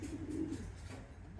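Soft, low pigeon cooing close by, a steady murmuring coo at racing-pigeon lofts holding birds bound for a one-loft race, with no voices.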